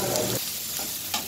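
Carrots and other vegetables for Manchurian fry lightly in a pan. A loud sizzle and stirring scrape sounds, then eases into a softer hiss with another scrape near the end.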